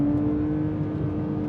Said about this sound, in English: It's going downhill, so it's revving quite high.